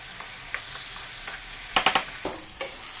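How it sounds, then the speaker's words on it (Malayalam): Chicken masala fry is stirred in a pan, with a soft sizzle underneath and several sharp scraping strokes of the spoon, clustered near the end and otherwise sparse, with no talk. "ഇനി എന്നതിന് ശേഷം നന്നായിട്ട് ഒന്നുകൂടി ഇളക്കി കൊടുക്കാം"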